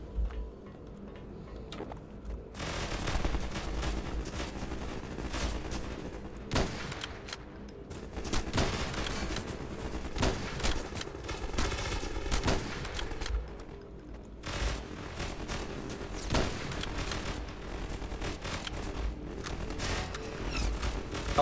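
Gunfire in the Half-Life–style shooter Hunt Down The Freeman, dense bursts of rapid shots and sharp cracks over game noise, with a short quiet gap at the start and loud volleys throughout.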